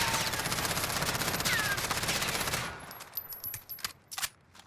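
Rapid automatic SMG hipfire from an MP5 or MP7 in Warzone, a dense sustained burst for about two and a half seconds, then a few scattered echoing cracks and impacts as it stops.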